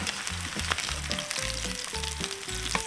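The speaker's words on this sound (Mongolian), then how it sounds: "Хариулын тавган дээр хангалттай оливын тос хийгээд махаа шарнаа." Meat frying in olive oil in a pan, a steady close sizzle and crackle under a simple melodic music track, with no talking.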